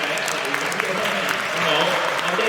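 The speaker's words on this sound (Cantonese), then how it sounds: "再一次俾啲掌聲你哋" An audience claps after a children's first music show, a dense, steady burst of applause that swells slightly toward the end, with a voice speaking over it.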